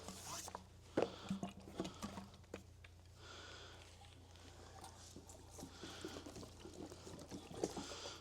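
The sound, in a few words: fuel poured into a Harley Davidson fuel tank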